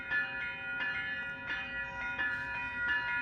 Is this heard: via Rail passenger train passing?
yes